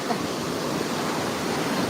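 Sea waves washing onto the beach at Tiruchendur, a continuous broadband roar of surf with no distinct breaks, steady and fairly close, no voices standing out.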